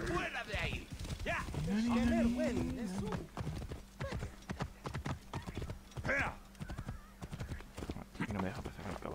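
Horse hooves clip-clop in rhythmic, close steps in the video game Assassin's Creed Origins, with a neigh and someone talking over them.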